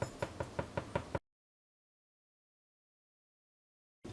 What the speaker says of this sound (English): So apparently if you tap on the bottom of it and it sounds hollow,